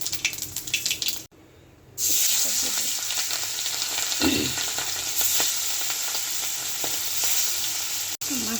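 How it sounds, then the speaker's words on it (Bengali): Large katla fish pieces frying in hot oil with cumin seeds, a steady close sizzle with stirring and occasional crackles, broken by a brief quiet gap early on. "মাছটা ভালো করে ভেজে নিব।"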